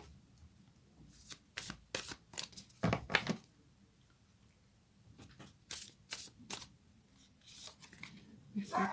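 Moonology oracle cards are shuffled close by in quick, soft riffling bursts separated by quiet gaps, with faint talk underneath.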